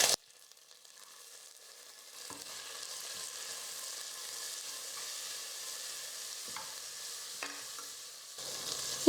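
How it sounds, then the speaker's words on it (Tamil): Green peas with ginger garlic paste are sautéed in a pan, giving a steady soft sizzle with a few light scraping clicks and no voices. "இஞ்சி பூண்டு விழுது பச்சை பட்டாணி சேர்த்து ஒரு 2-3 நிமிஷத்துக்கு நல்லா நான் வந்து வதக்கிக்கிட்டேன்"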